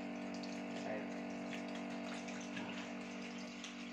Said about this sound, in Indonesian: Saya pakai sabun lagi, sabunnya keluar. Saya cuci tangan.